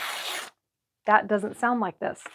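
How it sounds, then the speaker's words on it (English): A sheet of fairly heavy paper is ripped by hand in one short, close, rasping tear lasting about half a second, followed by a pause and then a person talking. "So this one I have here in front of my hand is tearing paper."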